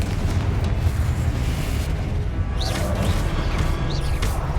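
A Confringo blasting-curse spell explodes in Hogwarts Legacy as a dense, continuous booming roar with crackling bursts, loud and steady with no pause.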